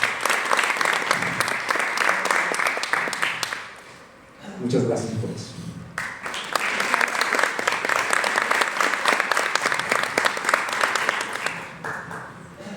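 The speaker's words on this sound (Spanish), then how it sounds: "Un aplauso para el profesor" A conference audience applauds steadily and loudly, the clapping breaking off briefly while someone speaks, then resuming dense and sustained.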